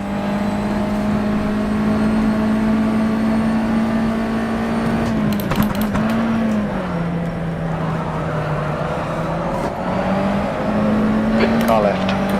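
USF2000 open-wheel race cars run in rFactor 2 at Botniaring, with a steady high engine drone from the player's car and a rival car passing close alongside. A voice talks over the engine throughout.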